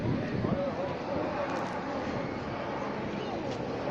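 An aircraft flies past at an air show in Malta, a steady broadband roar that holds loud and even for the whole stretch, with wind noise on the microphone.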